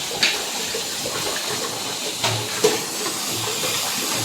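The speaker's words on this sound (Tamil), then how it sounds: "அவங்களும் சைடில் பாத்திரம் தேய்க்கிறாங்க" Metal cooking vessels are scrubbed and rinsed nearby in a kitchen, giving a continuous watery hiss with occasional clinks and scrapes, loud and steady with no talk.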